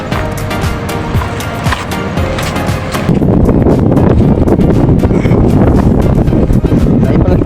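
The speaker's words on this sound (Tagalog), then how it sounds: "Dito at mahangin." Strong outdoor wind buffets the microphone with constant loud rumbling and gusting, growing heavier partway through, with no voices over it.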